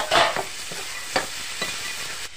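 Green peas with spices frying in a pan, a continuous close sizzle broken by several sharp stirring scrapes and clinks at irregular intervals, with no talking.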